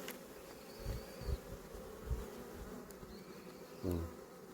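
Honeybees buzz steadily around hive frames during a spring colony inspection, a close, continuous hum with a few louder swells as individual bees pass near.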